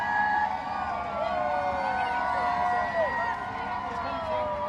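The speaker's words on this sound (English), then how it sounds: "Everyone in the crowd going wild." A crowd lining the route of an Olympic torch relay in Swindon cheers and whoops steadily, a dense wash of shouts and whistles with someone talking over the top.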